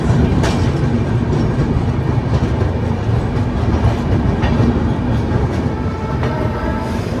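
Inside a sleeper coach of an Indian Railways special train made up of LHB coaches, a loud steady rumble and rattle rolls on throughout, with rhythmic clickety-clack from the wheels and no voices.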